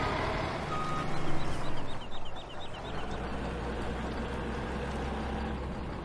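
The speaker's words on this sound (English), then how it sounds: "Let's get that water truck out of the way." Reversing beeps from a water truck on a farm in a video game repeat steadily in a rapid series over a low engine rumble and background noise, with birdlike chirps mixed in.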